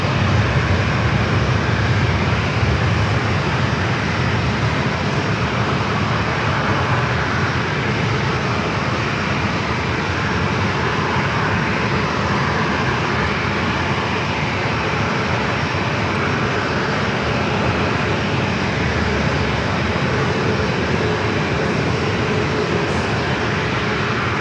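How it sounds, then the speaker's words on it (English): An Alaska Horizon retro-livery E-Jet airliner at San Diego airport, its jet engines giving a loud, sustained broadband roar that holds steady throughout with no voices. "Alaska Horizon Retro E-Jet."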